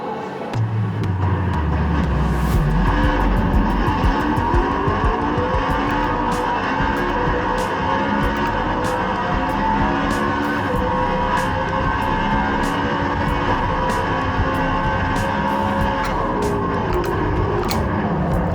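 Formula 1 car in a racing simulator lapping Sebring, its engine screaming loud and steady throughout with rising and falling pitch through gear changes and repeated sharp upshift clicks.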